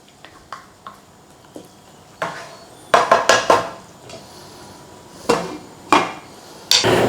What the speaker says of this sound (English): Get the lid back on for a couple of minutes